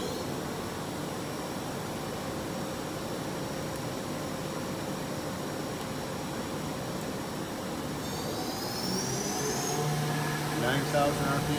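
A Doosan Mynx 6500 CNC vertical machining center spindle running steadily at 6000 RPM gives a constant loud whir with a steady tonal hum, rising in pitch and intensity with added whine toward the end.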